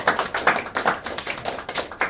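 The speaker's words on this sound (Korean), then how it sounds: "박수합니다." A congregation claps in a steady, rhythmic beat at a church founding service in Cheonan, with sharp, fairly close hand claps arriving roughly twice a second and no talking.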